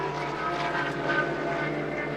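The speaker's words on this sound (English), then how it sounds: "The Rebellion Toyota engine revving away there behind the driver's head." Rebellion Toyota prototype race car engine at Sebring, a steady sustained roar with a dense mechanical drone held at constant loudness throughout, no voices over it.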